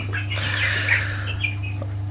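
Broiler chicks under heat lamps chirp and peep continuously, a dense cluster of high chirps near the microphone over a steady low electrical hum from the lamps.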